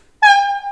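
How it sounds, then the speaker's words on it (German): Short whistle from a gauge 1 Wunder model of a class 111 electric locomotive: a single brief, clear toot lasting about half a second, sharp onset then slight fade, heard alone. "Dann ein Kurzpfiff."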